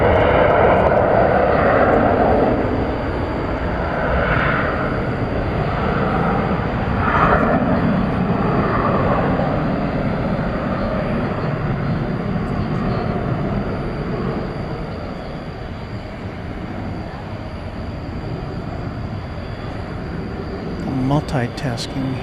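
A Boeing 767 jet at DFW Airport at night gives a loud, broad engine roar that stays heavy for several seconds, then slowly thins and fades into a quieter rumble, with voices murmuring faintly underneath.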